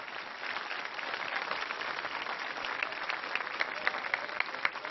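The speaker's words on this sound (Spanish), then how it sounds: "Un aplauso para Claudia." A crowd at a public dialogue event with Guarijío and Mayo communities in Sonora applauds in a dense, steady wash of clapping that holds evenly for several seconds, with a few sharper claps standing out near the end.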